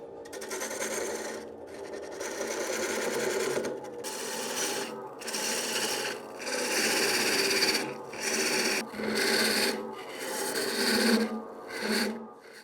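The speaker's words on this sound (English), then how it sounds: "So now I'm going to turn a couple of tenons on the end of this blank." A Laguna 1216 midi lathe turns tenons on the end of a green wood blank, giving a continuous raspy scraping as the tool cuts, rising and falling in short passes with brief pauses between them.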